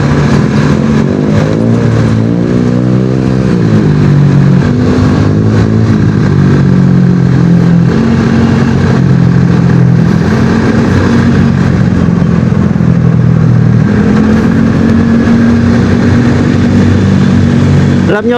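A KTM RC390 motorcycle's engine hums and rises in pitch while riding, with steady harmonic revving that climbs and settles several times, loud and close throughout, under a continuous wind and road roar.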